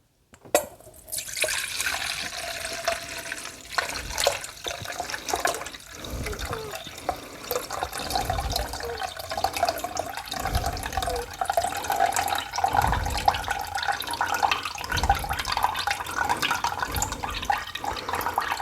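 Fermented jalapeno brine pours steadily out of a jar with a continuous splashing, gurgling liquid sound that goes on for many seconds, close by. No one talks over it.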